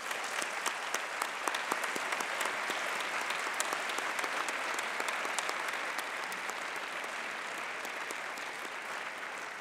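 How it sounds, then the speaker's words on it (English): A large luncheon audience applauds warmly and steadily, dense overlapping claps filling the room at moderate loudness for the whole stretch, with no voices over it. "Please join me in giving them a very warm round of applause"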